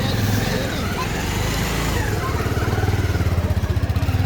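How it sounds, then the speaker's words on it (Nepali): A motorcycle engine runs loud and close as the bike is ridden up toward a parking area near the Swayambhu temple, its throbbing exhaust settling into a steady pulsing idle, with a voice faintly under it. "अब हाम्रो बाइक चाहिँ यता माथितिर पार्किङ हुन्छ"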